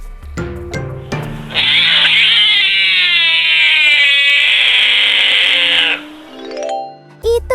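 An ocelot, a wild cat, gives one long, loud, sustained yowl lasting several seconds. A few short chiming tones come just before and after it.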